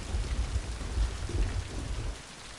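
Steady rain hisses and patters continuously in the video game Mind: Path to Thalamus, with low rumbling underneath, fading slightly toward the end.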